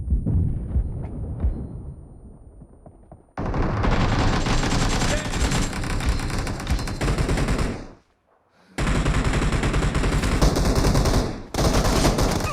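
Automatic gunfire in the mobile battle royale game BGMI, played on a Lava Blaze Pro 5G phone: dense, loud sustained bursts of rapid shots with brief pauses between volleys and a near, continuous rattle.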